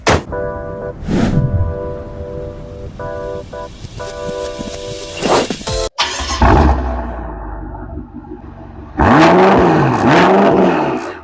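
The engine of a BMW M6 making 811 wheel horsepower revs loudly near the end in rising and falling surges, after a stretch of mixed music and road noise with an abrupt cut.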